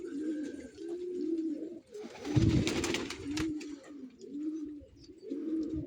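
Homing pigeons sit hunched on a warm day, cooing in repeated rolling phrases close by, with a brief louder rustle or flutter midway.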